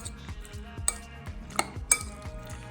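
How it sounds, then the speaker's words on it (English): A spoon clinks and scrapes against a bowl as chicken marinated in vinegar and dark soy sauce is stirred, a quiet, close series of soft taps with a few sharper metallic knocks. "Now give that a good mix"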